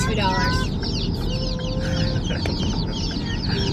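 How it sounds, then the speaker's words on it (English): About 42 baby chickens in a basement peep in a busy, high-pitched chorus, many calls overlapping steadily, with a low hum beneath. "Yeah, Very loud. we got chicks."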